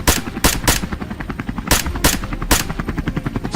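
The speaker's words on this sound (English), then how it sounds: "Gunfire erupted in rapid bursts." Rapid bursts of machine-gun fire ring out from an aircraft aimed at a herd of wild boars on a hillside, sharp loud cracks in quick clusters over the steady thudding of a helicopter rotor.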